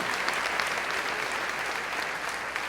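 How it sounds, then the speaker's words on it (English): Applause from the audience at a community meeting, a dense, steady patter of many hands clapping at moderate volume. "So some applause to you all for showing how it's done"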